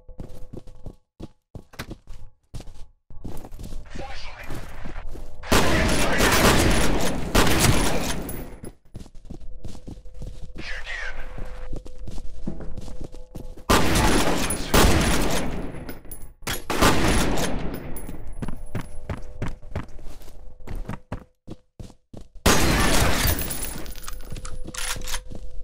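Shotgun fire in the video game FEAR: loud booming blasts come in repeated bursts with sustained roaring stretches, interspersed with rapid clicks and thuds across the sequence.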